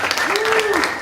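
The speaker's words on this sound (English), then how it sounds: "Any applause?" Short burst of audience clapping at a radio broadcasting industry panel at the RAB 2016 conference, with a voice sounding briefly over it.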